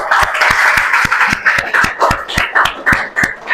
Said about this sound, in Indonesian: Tepuk tangan untuk Virus.